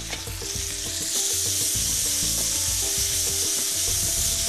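Beef tossed into a hot pan with quickly browning garlic, a loud, dense sizzle with steady stirring and scraping close by.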